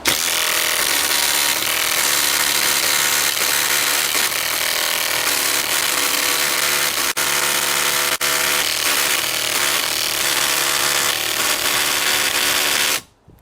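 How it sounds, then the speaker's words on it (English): A Makita high-torque impact driver drives a HiKOKI screw into wood with a loud, sustained hammering whine that runs unbroken for about thirteen seconds before cutting off abruptly. "If this manages to sink this, then this is a very powerful impact driver."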